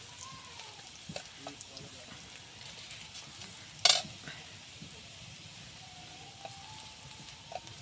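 A ground spice paste of onion, garlic, red chilli, turmeric and salt fries in hot oil for a Bengali rohu fish curry. A low, steady sizzle runs throughout, with one sharp hissing flare midway and a faint voice in the background.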